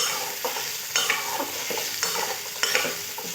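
Potato pieces frying in oil in a pan with salt and turmeric, a continuous sizzle broken by several clear scrapes and knocks of a spatula stirring, close and fairly loud, no voices.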